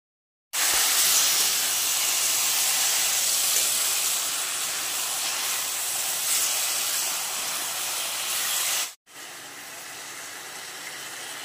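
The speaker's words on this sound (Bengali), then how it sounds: "এবার কড়াইয়ের মধ্যে দিয়ে দেবো হচ্ছে তেল, আর আমি লাউটাকে রেঁধে নেব।" Bottle gourd hitting hot oil in a heated kadai sets off a loud, steady sizzling hiss that runs for several seconds, then cuts out briefly before a fainter sizzle resumes.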